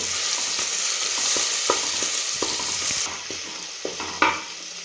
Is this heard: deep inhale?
no